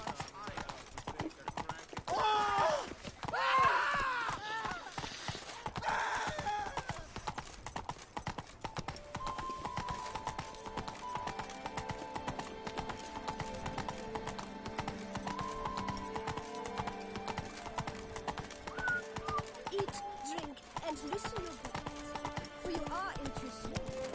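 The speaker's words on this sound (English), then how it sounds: "They make the horse so slow here." Horse hooves clip-clop in a steady, even rhythm throughout a stretch of The Witcher video game, with a brief whinny early on and game voices talking over the walking gait.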